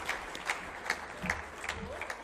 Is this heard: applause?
yes